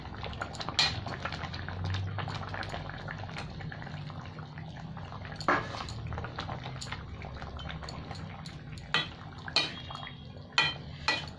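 Bengali fish curry with potatoes, eggplant and lentil dumplings bubbling in a pot, a soft continuous simmer punctuated by occasional clinks and taps of utensils against cookware.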